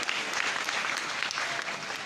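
Steady applause from an audience at a live stage show, dense and continuous clapping filling the whole stretch at moderate distance with no voices on top.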